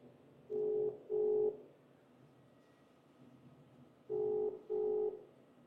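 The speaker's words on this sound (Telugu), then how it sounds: "నీలం మధుకే ఫోన్ చేద్దాం" A telephone ringback tone while placing a call, two paired beeps, then a pause, then two more, fairly clear over a faint hiss with no talk.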